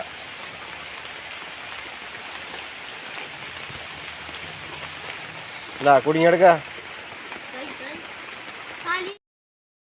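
Steady rain patters and hisses over a fish pond that is flooding, with a few brief voices breaking in partway and a short bump near the end before it cuts off.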